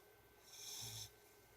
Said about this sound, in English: She's snoring like she's drunk.